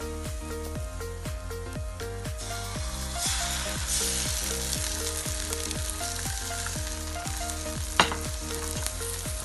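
Eggs fry and get stirred in an oiled pan, a continuous sizzle sitting beneath a repeating rhythmic musical backing, with one sharp clack of a utensil near the end.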